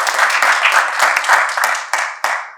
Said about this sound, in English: So let's give everybody here a round of applause.